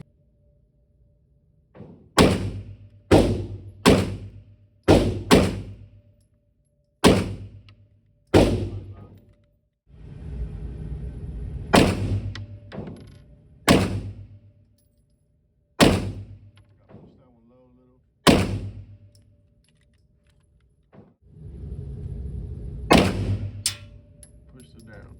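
H&K VP9 Match pistol fired in 4-round groups outdoors, sharp loud shots in quick clusters separated by pauses, with a person talking between strings.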